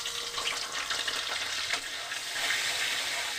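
Butter melts and sizzles in hot oil in a kadai, giving a steady, close, hissing fry with no voices.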